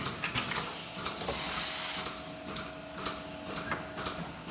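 A milking robot attaches its cups to a cow's teats with vacuum suction, giving a loud hissing burst of about a second amid softer mechanical clicks and ticks and a steady low machine hum in a dairy barn.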